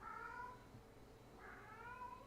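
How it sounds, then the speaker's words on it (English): Two separate house cats meowing indoors, each call a drawn-out, whiny complaint of about a second, the first at the start and the second around the middle, moderately close over a low steady room hum. "I'm sure you guys hear our cats because, hey, they just love to complain"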